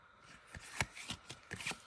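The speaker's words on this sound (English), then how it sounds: "let's go ahead and give it a shuffle" A gilded tarot deck is riffled and shuffled in quick, crisp bursts of card flutter and soft taps, close and quiet, with no voices.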